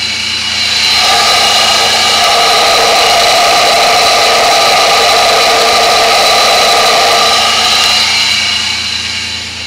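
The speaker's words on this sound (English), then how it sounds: "Let's see if you can hear the vacuum from the motor" A car's engine runs steadily at a loud, even pitch throughout, with a constant mechanical drone and a whining vacuum hum layered on top.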